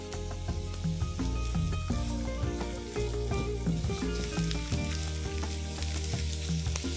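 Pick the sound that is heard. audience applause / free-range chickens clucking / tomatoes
tomatoes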